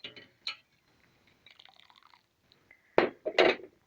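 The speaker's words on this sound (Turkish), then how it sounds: "Yaprağın üzerine aktarıyoruz kaynar suyu." Boiling salted water is poured over grape leaves for brining, starting as brief drips and trickles, then turning into two louder splashing pours at close range near the end.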